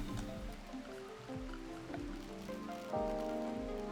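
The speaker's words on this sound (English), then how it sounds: "the fire just went out on its own in the rain here" Rain in the colony-building video game RimWorld, a steady patter of drops and splashes under tonal music notes from the game, with no speech.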